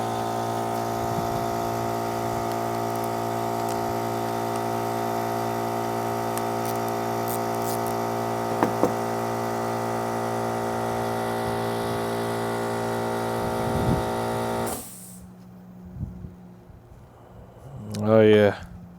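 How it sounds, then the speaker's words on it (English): An air compressor in a workshop drones steadily in the background for about fifteen seconds, then cuts off abruptly, leaving a quieter room with a brief rising whine near the end. "Excuse the noise in the background. Oh, that's my air compressor."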